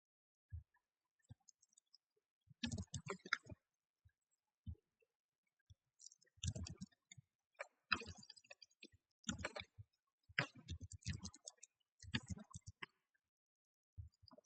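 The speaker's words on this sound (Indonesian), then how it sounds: "Sebentar saya ketik." Keyboard typing heard as scattered quick bursts of soft clicks with pauses between them, close and quiet.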